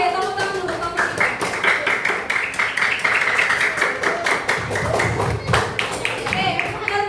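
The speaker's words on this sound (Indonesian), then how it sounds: "Oke, tepuk tangan dulu kelompok 3." A classroom of junior high students applauds a group during a math lesson on comparing fractions, a dense crackle of many hands clapping steadily throughout, with voices talking over it.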